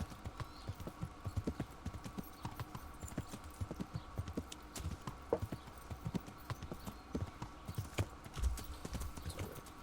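Horse hooves clip-clop steadily in Kingdom Come: Deliverance, a rhythmic run of quiet hoof strikes on the ground that carries on throughout at a soft, even level.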